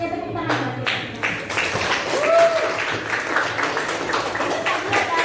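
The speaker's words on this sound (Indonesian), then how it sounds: "Oke, tepuk tangan bagi kita." Students clapping in a classroom, a dense spread of hand claps lasting several seconds at fairly close range, with some voices mixed in.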